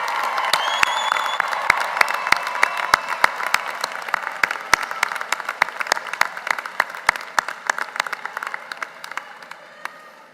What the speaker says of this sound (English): graduates, please show your appreciation to them with resounding applause